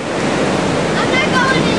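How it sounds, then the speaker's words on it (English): Ocean waves break on the rocky shore of La Jolla Cove in a loud, continuous rushing wash of surf, with some wind buffeting the microphone throughout. "Gotta time the waves."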